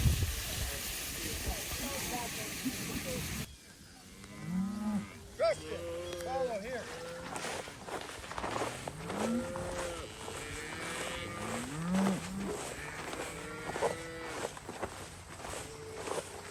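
Several South Poll cattle low and moo at moderate distance over rustling and hissing noise, with a person briefly speaking nearby.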